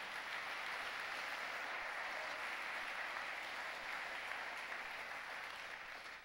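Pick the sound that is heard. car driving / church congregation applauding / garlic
church congregation applauding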